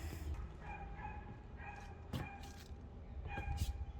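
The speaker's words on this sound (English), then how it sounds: "Sounds like a dog is in distress." Out in a quiet London park, a dog yelps and whimpers in distress at a distance, with repeated short cries spread across the moment over faint outdoor background.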